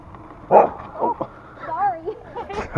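A puppy barks and yips several times in short, sharp bursts close by, with a person talking and other voices around it on an outdoor walk.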